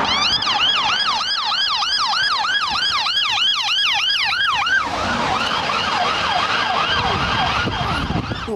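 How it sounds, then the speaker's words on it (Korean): An ambulance siren wails in rapid rising-and-falling sweeps, loud and close, then shifts to a rougher, lower, blurred tone as the vehicle passes and moves away. "사이렌 소리가 점점 다르게 들리는데?"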